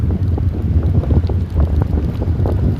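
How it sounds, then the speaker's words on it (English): Strong wind at Sunset Park, Las Vegas, buffets the microphone in a constant low roar with gusty rumbling, loud and close, no voices. "Got some wind out here."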